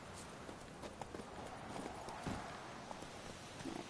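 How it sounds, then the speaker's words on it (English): Horse hooves clip-clopping in The Witcher 3 video game, a quiet, regular patter of hoofbeats against a soft background hiss, with no clear speech. "Where's my horse? Hurry up, horse."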